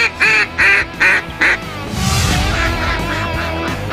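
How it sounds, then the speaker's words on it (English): Four loud, evenly spaced quacks from a duck call in the Duck Dynasty video game, followed by a rushing, splashy wash of game sound. "You need to learn duck calling 101."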